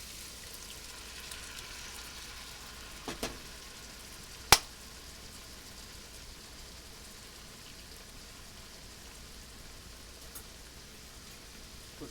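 Tomatoes sizzle steadily in a cast iron pan alongside beef short ribs, giving a soft, even frying hiss with a sharp clink of utensil on metal partway through.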